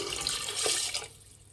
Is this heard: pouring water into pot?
yes